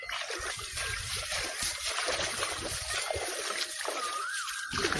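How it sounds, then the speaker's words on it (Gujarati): Water splashes and trickles steadily onto a tractor being washed outdoors, a close, continuous spattering hiss with no talk. "તો આ છે આપણું ટ્રેક્ટર અમે ધોવા આવી ગયા છીએ"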